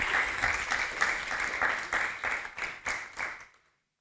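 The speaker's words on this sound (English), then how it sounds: "should we have a round of applause for our speakers before we do that?" A small audience claps steadily for a few seconds for the speakers of a panel talk, the applause tapering off and stopping near the end.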